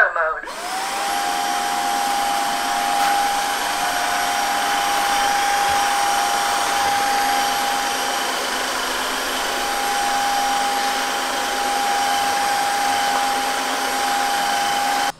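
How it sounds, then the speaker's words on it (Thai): A Xiaomi Dreame H11 Max cordless wet-dry vacuum cleaner in auto mode starts up and runs with a steady, even whine and airflow hiss, continuous and close. "เครื่องดูดฝุ่นตัวนี้เสียงเบามากครับเพราะฉะนั้นเนี่ยผมจะลองทดสอบการทำงานดูนะ"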